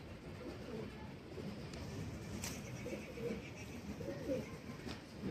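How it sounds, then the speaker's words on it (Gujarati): Pigeons gather to eat scattered grain outdoors and coo softly in low, rolling calls that repeat unevenly against quiet background noise. "જોઈ લો મિત્રો કેટલા બધા કબૂતર આવી ગયા દાણા ખાવા"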